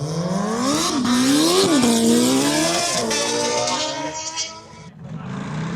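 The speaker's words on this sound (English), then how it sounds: "We got a Hayabusa this time" A Hayabusa motorcycle races by at the Burt Munro Challenge in Invercargill, New Zealand, its loud engine revving up and down through the gears close by before fading away, with people talking faintly in the background.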